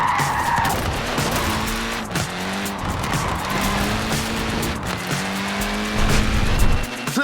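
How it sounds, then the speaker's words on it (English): Mini car tires squealing and skidding in Forza Horizon 4, a continuous loud screech with rising and falling pitch over a buzzing small engine, close up and without talking. "Look at that, laying down some rubber there."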